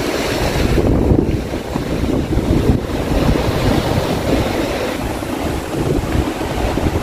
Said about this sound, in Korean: 바다 소리